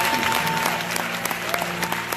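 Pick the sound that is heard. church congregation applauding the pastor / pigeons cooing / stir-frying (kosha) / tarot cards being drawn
church congregation applauding the pastor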